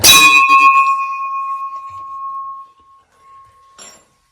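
A single struck bell rings out loud and clear inside a cave, its pure tone lingering and slowly fading in the reverberant space, followed by a faint second tap.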